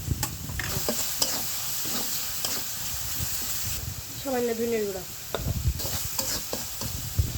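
Spice paste of onion, garlic and cumin with chilli and turmeric sizzles and crackles in hot oil under repeated scraping stirs, close and fairly loud, while a person talks briefly.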